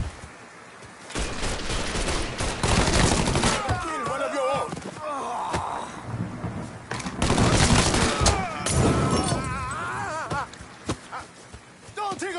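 Rapid bursts of gunfire crackle in Mafia 3 Definitive Edition, with repeated loud shots and volleys through a chaotic firefight while voices shout over the shooting.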